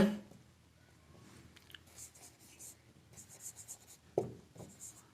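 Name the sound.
writing maths working on paper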